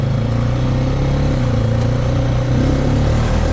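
Honda Rancher four-wheeler engine droning steadily while riding a trail, a loud close mid-pitched motor hum with rattling and slight rises in revs, no talking.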